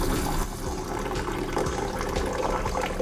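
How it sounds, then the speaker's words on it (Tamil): Raw rice and a little fenugreek being rinsed by hand in a bowl of water, a steady close sloshing and swirling of water throughout, with no voices. "இப்போ இது ரெண்டுத்தையும் நல்லா அலசி எடுத்துகிட்டு வந்துடலாங்க"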